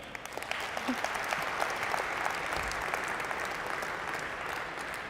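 Steady audience applause at an industry event gathering, filling the room evenly at moderate volume from start to finish, with a few sharper claps standing out from the dense wash.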